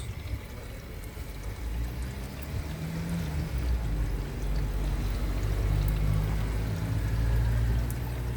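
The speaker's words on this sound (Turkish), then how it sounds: "Şu an cihaz su alıyor." Dishwasher model 6431 filling with water: a steady, continuous rushing and pouring flow that grows slightly louder over several seconds, with no talking.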